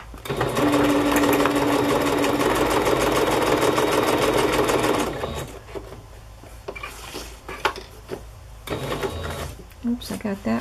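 A sewing machine stitches cardstock journal pockets in a steady, loud, close run for about five seconds, then stops, followed by quieter handling noises and a person talking.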